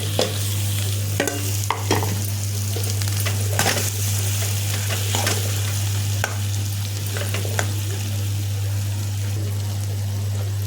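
Spices frying in hot oil while being stirred, a steady close sizzle with repeated scraping strokes of a spoon against the pan and a constant low hum underneath, no talking.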